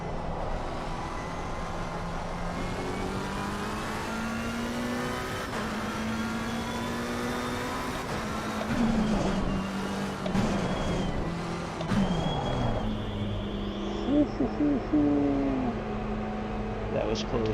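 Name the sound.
McLaren race car engine in the video game Assetto Corsa Competizione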